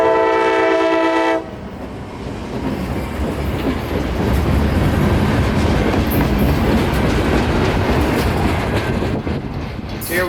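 Freight train on the Palmetto Subdivision near Gibsonton, a horn blast giving way to a loud, steady roar and rumble of cars rolling close by, with faint wheel clatter throughout.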